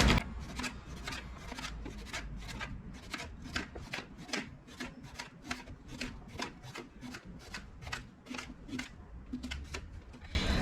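A knife slicing a cucumber into round pieces on a board for a Greek salad, a steady run of crisp, evenly spaced chops lasting about ten seconds, close and clear with no talking.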